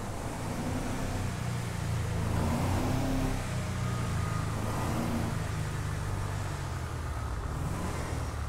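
A car engine roars and revs continuously in a video game heist chase, a dense, steady rumble with slight surges in pitch and no talking.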